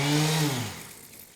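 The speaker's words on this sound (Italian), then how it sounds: "ho la mia levigatrice che vibra e gira" A battery-powered orbital sander, used while refinishing an old dining table, gives a brief loud motor whir that drops in pitch and fades away as it spins down.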